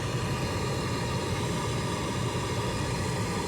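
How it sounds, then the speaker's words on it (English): A steady, even hiss of pink noise test signal fills the air continuously without change, loud and unbroken throughout, played for car audio measurement. "So we're going to hit the pink noise."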